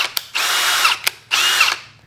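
A power drill at fast speed spins a sharpening stone against a blade in two long loud bursts of high grinding whine, each preceded by a brief tap or blip, with short gaps between.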